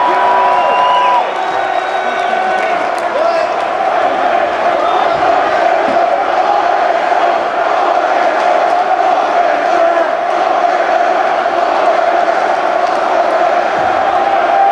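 Large arena crowd at a concert in Towson, Maryland chanting loudly and continuously in unison, a dense roaring wall of voices sustained for the whole stretch.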